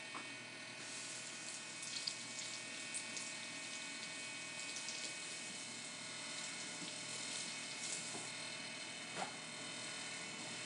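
Vegetables are rinsed under a running kitchen tap, a steady close wash of water that holds evenly for the whole stretch with no talking over it.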